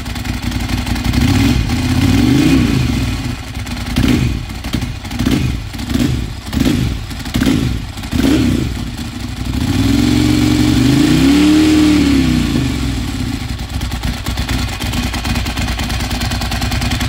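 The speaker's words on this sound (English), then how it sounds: "give it a rev here, one rev before I shut it off" An engine idles nearby and is revved several times before shutoff, with the pitch rising and falling in surges. A stretch of rapid, choppy pulses follows, then a longer rev near the end. The engine sounds loud and close, and no one talks.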